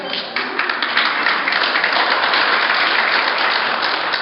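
A small live audience at a medium's fundraiser event claps together, a dense burst of many hands that starts abruptly and carries on steadily at close range.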